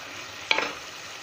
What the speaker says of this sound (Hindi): हम इस प्याज को जो है एक अच्छा सा कलर आने तक भूनेंगे।